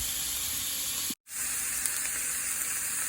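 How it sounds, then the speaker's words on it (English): Chopped onions sizzle in a hot pan, a steady close hiss of frying that briefly cuts out for a moment, then resumes with the same even crackling. "Let's let these onions cook down before we add the spinach."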